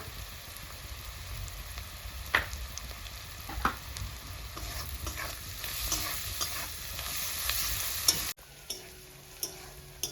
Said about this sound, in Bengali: দিয়ে দিচ্ছি গরম মশলার গুঁড়া,